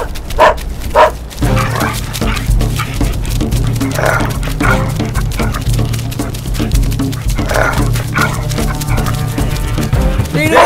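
Several dogs bark, yip and whimper in a forest, a loud, dense and continuous chorus of close, overlapping calls throughout.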